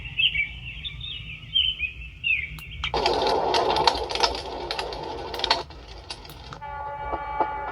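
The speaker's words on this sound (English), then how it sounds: "That's a choo-choo train." A toy train sound plays from a sensory toy, starting with a bright bird-like chirp, then a loud sustained train horn blast over rumbling rail noise, ending with a short chiming tune.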